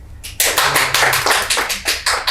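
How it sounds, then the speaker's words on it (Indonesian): Applause breaks out after a short pause, with dense clapping that swells and holds steady to the end, closing an episode of a human-resources podcast from Indonesia's education ministry. "Kita berikan aplaus dulu."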